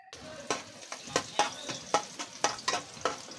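Palabok cooking in a pan: a soft sizzle of frying with rhythmic scraping strokes of a utensil, about two per second, fairly faint.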